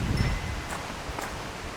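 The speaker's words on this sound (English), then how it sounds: "Looks like the storm is coming. It's so windy all of a sudden." Wind gusting outdoors on Koh Samui, Thailand, as a storm approaches, a steady broadband rush with brief louder surges, close and fairly loud.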